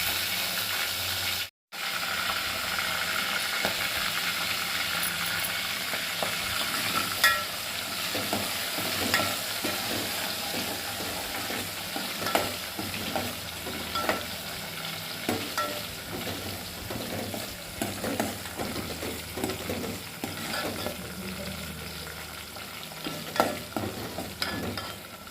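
Onion, green chili and a pounded spice mix frying and being stirred in a pan for a village-style mill-maker curry, a steady broadband sizzle with scraping stirring clicks throughout, close and continuous, no talking.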